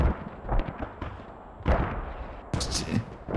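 Mortar and artillery fire in the tactical shooter Squad during a competitive match, with several heavy booming impacts and blasts at about 1.7 s and 2.5 s, loud and close among scattered battle noise.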